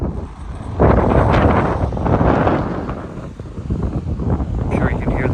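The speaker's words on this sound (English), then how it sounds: "I'm sure you can hear the difference in the wind out here as soon as we stepped onto the beach." Steady wind buffets the microphone on an open beach at a state park with cut dunes, a continuous broadband rush that rises and falls in gusts with no speech over it.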